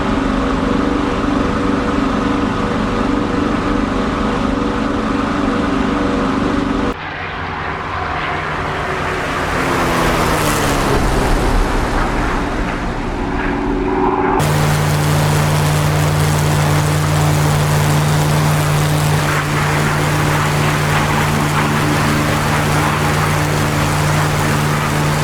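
Spitfire Mk IX piston engine in flight in the DCS combat flight simulator, a loud, continuous droning roar with a steady hum that shifts in tone across the stretch, with no talk.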